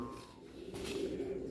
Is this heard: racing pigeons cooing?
yes